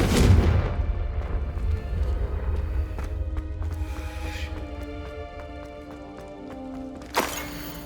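Confringo fire spell from Hogwarts Legacy, a deep booming blast that fades into a ringing, shimmering tail, followed by a sharp crack near the end.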